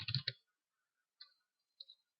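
Three quiet, crisp mouse clicks on a computer: a quick cluster of two or three at the start, then two single clicks spaced about half a second apart, with silence between them.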